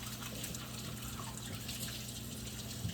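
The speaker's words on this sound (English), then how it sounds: "I'll go ahead and get them all washed while I'm here" Apples are rinsed under a running tap in a kitchen sink, a steady close stream of water that continues unbroken throughout.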